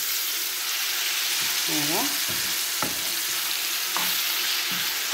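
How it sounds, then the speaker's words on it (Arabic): A Moroccan-style sauce with a little added water fries and is stirred in a pan, giving off a steady, close sizzle broken by a few scraping and clinking sounds, with a brief spoken word over it. "غادي نزيد شويه الماء وغنخلي هاد لاصوص تقلى تقلى تقلى مزيان"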